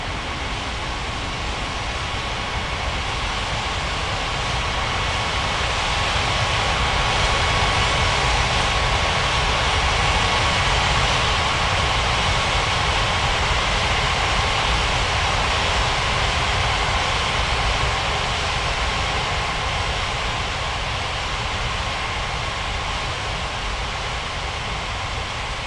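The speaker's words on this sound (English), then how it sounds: "Singapore 6039 cleared for takeoff runway 35." An airliner's engines roar steadily and broadly during takeoff in an air traffic control video game, a continuous loud rumble that swells slightly in the middle and holds for the full length.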